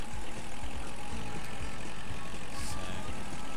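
A half-track tractor engine from the game Agricultural Simulator Historical drones at a low steady pitch, dense and continuous, with a faint brief hiss near the end and no talk.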